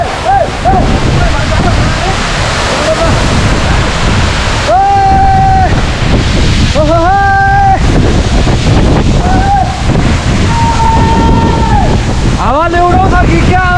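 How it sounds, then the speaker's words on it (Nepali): Strong wind roars across the microphone near the Lauke Jharna waterfall, a loud steady rush of air and falling water running the whole time, with people talking and calling out over it. "हावाले उडाउँछ कि क्या हो चिसो भयो"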